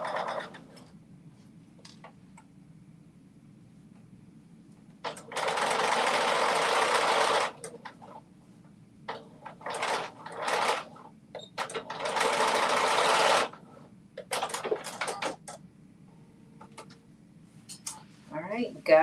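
A sewing machine stitches the main dress fabric to its linings in two sustained runs of steady whirring, each a couple of seconds long, separated by quieter handling sounds and brief bursts of talk.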